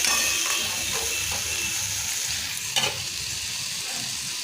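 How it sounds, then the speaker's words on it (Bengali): Pointed gourd (potol) curry frying in a pan gives a steady, close, loud sizzle with a broad hiss throughout. Brief stirring scrapes and one sharp clatter come near the end. "এটা পটল তরকারি বসালাম,"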